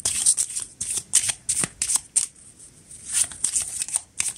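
Tarot cards being shuffled by hand in a quiet room during a reading, a run of crisp papery riffles and flutters in bursts with brief pauses between them, close and clear with no talking.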